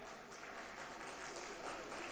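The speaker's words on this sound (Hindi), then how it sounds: "एक मरतबा फिर तालियां हो जाएं।" Audience applause at the 2018 Jashn-e-Salaam mushaira, a steady wash of many hands clapping together, filling the hall evenly and continuously without pauses.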